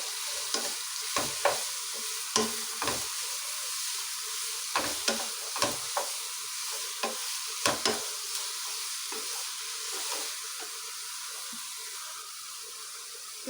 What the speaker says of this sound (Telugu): ఆనియన్ వేసి బాగా బ్రౌన్ కలర్ వచ్చేటట్టు వేయించాలి